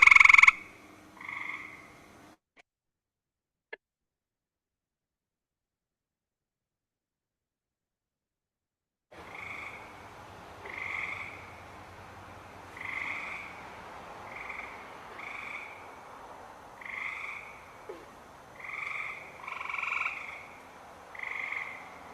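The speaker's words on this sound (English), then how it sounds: "so our gray tree frog, you'll hear that really high trill noise" Gray tree frogs calling at night, short high trills repeating every second or so at a moderate distance, preceded by a brief louder burst and several seconds of silence.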